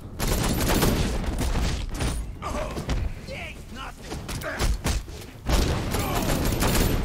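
Gunfire in the video game Batman Arkham Knight, a loud dense burst of automatic shots and impacts that eases into scattered blasts and mechanical clanks before rapid fire returns, with a voice talking over the gameplay.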